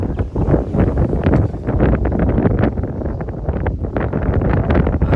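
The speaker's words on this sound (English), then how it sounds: "Well, that wind was not cooperating at all. It makes for some bad audio, I know." Strong gusts buffet a microphone outdoors in a garden, producing a loud, continuous low rumble and flutter that swamps everything else for the whole stretch.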